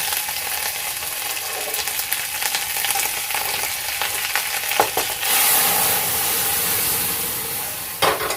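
Dal mixed with ginger paste hits a hot pan in a Bengali motor dal with bitter gourd, giving a steady broadband sizzle and frying hiss that swells louder midway and keeps going, with a brief clatter near the end and no talking.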